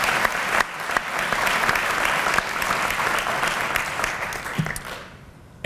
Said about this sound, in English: can we give a round of applause to all of them?